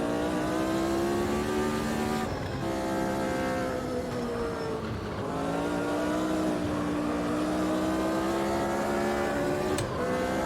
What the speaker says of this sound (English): these sounds, the Ford Cosworth sounds